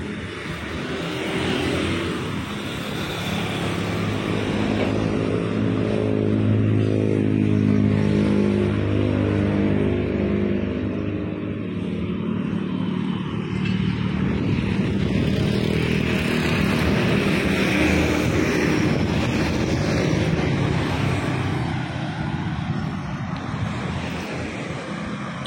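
A Mercedes-Benz diesel engine idles in an old PMTOH bus, a loud continuous low rumble that holds steady for the whole stretch, close by, with no talking over it.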